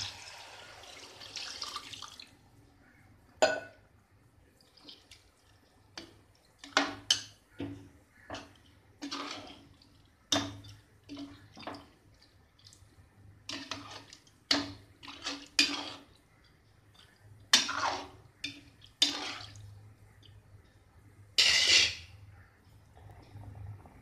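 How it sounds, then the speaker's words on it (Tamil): Water poured in several short bursts into a cooking pot for chicken pulao, with splashing and clinks between pours, fairly close, over a low steady background hum. "இப்போ தண்ணி ஊற்றிட்டேன்."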